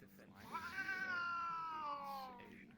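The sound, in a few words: cats fighting, yowling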